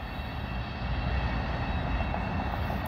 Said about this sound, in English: What the hell is that noise? Oh, it's the trains.